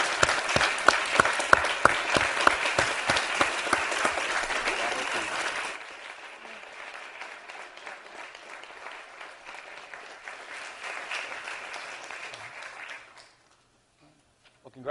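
Sustained audience applause fills a hall at an evening award ceremony, dense hand clapping that carries on steadily before thinning and fading out to near silence at the end.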